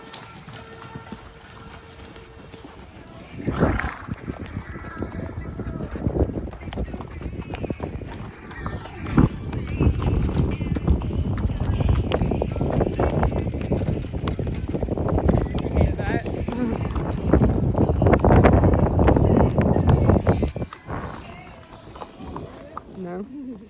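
Hooves of a horse on a cavalcade ride tread steadily through murky water, a close, continuous run of splashy thuds that swells louder midway, while a rider talks over it.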